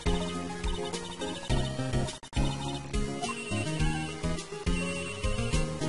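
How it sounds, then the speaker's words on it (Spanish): A phone rings in the Nintendo DS game Phoenix Wright: Ace Attorney, a bright repeating electronic ringtone over busy game music, steady and loud with a brief dropout near the middle. "Nos llaman al teléfono."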